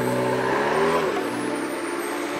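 A McLaren 765LT sports car engine drones loud and close, briefly revving up and then settling back to a steady, lower rumble with no voices.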